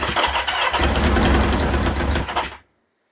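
A 1977 Kawasaki KZ650 motorcycle engine cranks on a weak starter and catches, a loud rough close-up roar with uneven firing that cuts off abruptly after about two and a half seconds.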